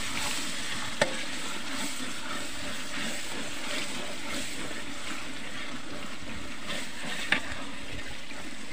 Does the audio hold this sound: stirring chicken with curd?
yes